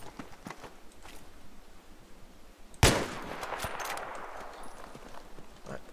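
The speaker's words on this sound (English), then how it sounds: "I'm going to try something using the sniper rifle" A single sharp sniper rifle shot in Battlefield 3 cracks loudly in the middle, followed by a ringing tail over quiet game ambience and faint footsteps.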